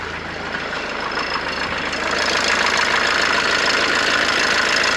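A Mercedes W201 190D diesel engine idles with the hood open, a close, loud, steady clattering rumble that grows slightly stronger partway through, with no talking.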